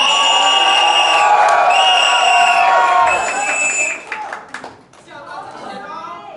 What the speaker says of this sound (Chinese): 你不要给他喝倒彩啊